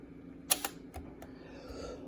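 Mechanical shutter of a Konica Auto S2 rangefinder camera firing, two sharp close clicks in quick succession followed by a couple of softer clicks, alone in a quiet room.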